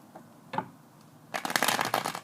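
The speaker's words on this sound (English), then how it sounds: "Let's do one more shuffle." A deck of tarot cards shuffled by hand, a couple of soft card taps followed by a quick, loud riffling burst of rapid flicks up close.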